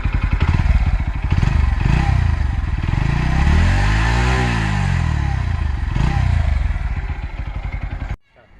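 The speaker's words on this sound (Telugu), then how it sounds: "ఒకసారి దీని బీటింగ్ కూడా ఒకసారి మన ఎగ్జాస్ట్ నోట్ ఒకసారి చూద్దాం." A Bajaj Pulsar NS 125 motorcycle's exhaust rumbles close by at idle, revs up smoothly and falls back down, then the engine sound cuts off abruptly near the end.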